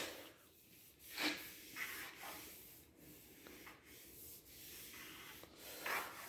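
Filler putty on a boat trailer's metal being rubbed down by hand with abrasive: repeated scratchy back-and-forth strokes, close and fairly quiet, with short pauses between passes and no talking.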